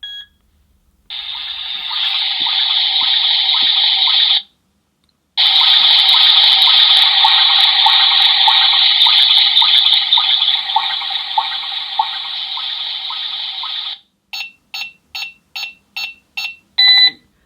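A John Lewis washing machine running its wash program lets water rush in with a loud, steady hiss that stops briefly and restarts, followed by a quick run of short electronic beeps.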